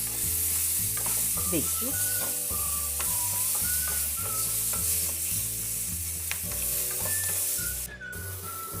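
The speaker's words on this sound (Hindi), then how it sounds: "अब हम इसको तड़केंगे। कम गैस में इसको तड़केंगे मिर्ची को।" Green chillies fry in a pan over low gas, a steady bright sizzle with occasional stirring scrapes running throughout, close and even, while a single short spoken word comes in partway through.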